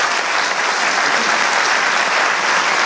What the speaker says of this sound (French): il n'y a pas besoin d'applaudissements